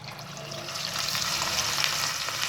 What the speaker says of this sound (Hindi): आपने लो टू मीडियम फ्लेम पे ही जो है ना कबाब को फ्राई करना है